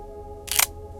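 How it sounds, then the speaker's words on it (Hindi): A single camera shutter click, one short crisp burst standing alone over a quiet, steady hum. "मैंने अपना कैमरा निकाला और तस्वीर लेना शुरू की"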